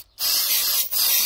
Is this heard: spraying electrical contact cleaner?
yes